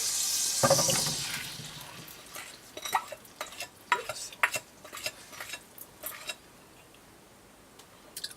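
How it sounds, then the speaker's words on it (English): Apple pieces dropping into melted butter in a frying pan, then a spoon stirring them around, producing a series of soft scrapes, clinks and light sizzles that fade toward the end. "So once your butter is melted, you're going to place your apples in."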